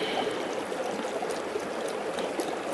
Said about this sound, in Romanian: Fileurile astea le spăl frumos